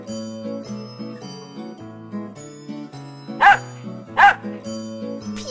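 A dog in a children's cartoon gives two short, loud barks close together, set against light background music.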